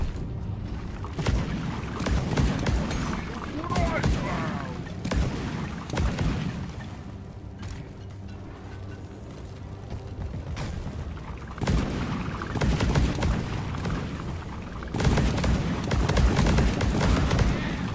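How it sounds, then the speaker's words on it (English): Deep Rock Galactic gameplay with repeated booming explosions and rattling bursts of gunfire, heavy low rumbles arriving in clusters and fading between them. "So many explosions."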